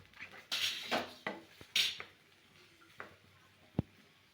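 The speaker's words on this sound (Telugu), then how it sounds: "బెండకాయలు వేసుకొని నీట్గా కలుపుకుందాం" Okra is stirred in a metal pan, heard as scattered scraping and clinking strokes of a spoon, loud at first and then sparser, ending with a sharp single tap.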